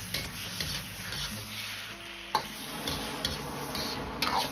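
Tomato and potato slices are stir-fried in a wok, with a soft background sizzle broken by scraping stirs and a few sharp clicks of the spatula against the pan, close up.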